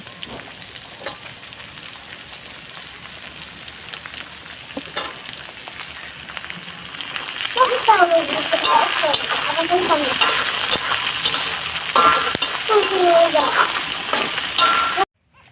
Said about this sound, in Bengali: আমি এখন পেঁয়াজ দিয়ে দিব।